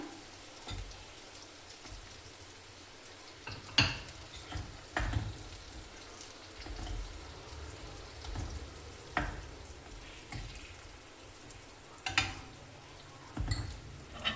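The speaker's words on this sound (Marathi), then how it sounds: "हे मिक्स झाल्याबरोबर यामध्ये पहिले 1 मिनिट वांगे टाकून द्यायचे सुरुवातीला" Eggplant frying in a spicy masala sizzles quietly in the pan, with scattered scraping and clinking stirs of the spoon cutting in at irregular moments.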